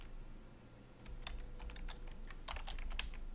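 Typing a username on a computer keyboard, heard as quiet, close, irregular clusters of key clicks that grow busier toward the end, with a faint hum underneath.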